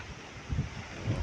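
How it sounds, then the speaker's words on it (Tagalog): Strong, continuous wind from Typhoon Kristine on a Philippine coast near boats, a dense roaring rush with slight gusting swells, close to the microphone and without speech. "tuloy-tuloy talaga na malakas yung hangin."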